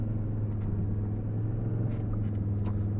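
A four-wheel drive vehicle crawls through soft sand at Sandbar Beach, its engine a steady, close, low rumble droning evenly throughout with no voices.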